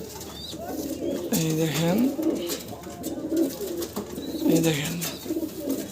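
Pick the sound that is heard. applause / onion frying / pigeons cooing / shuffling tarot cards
pigeons cooing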